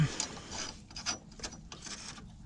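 A ratchet clicks in quick bursts while adjusting BC coilovers on a Nissan G35/350Z, close and crisp, a few short runs of pawl ticks with brief pauses.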